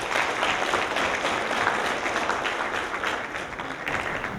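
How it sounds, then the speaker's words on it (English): Audience applause at a college presidential lecture series, with students, faculty and staff clapping: a sustained, even wash of dense claps from a large room, steady and moderately loud throughout. "Give yourselves a round of applause."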